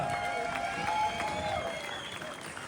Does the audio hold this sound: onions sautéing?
no